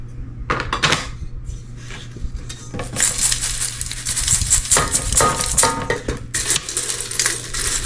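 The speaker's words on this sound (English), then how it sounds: "And then pour all that glass in there." Glass pieces poured into an enamelware soup pot and sifter, giving a dense, continuous clinking and rattling that builds and swells over several seconds, fairly close and loud, with no talking.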